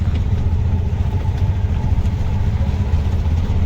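An old autorickshaw's engine runs at a steady idle, with a continuous low, throbbing rumble close by and no talk over it.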